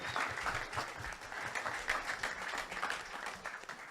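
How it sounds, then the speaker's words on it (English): A panel audience at a DJ music conference breaks into a round of applause, dense steady clapping from many hands that carries evenly for the whole stretch with no voices on top. "Everybody give their own self a round of applause for that."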